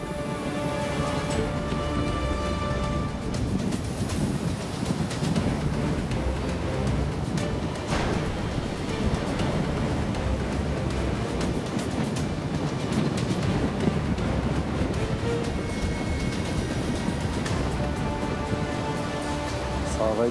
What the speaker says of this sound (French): harcelés par les rafales de vent et chahutés par le ressac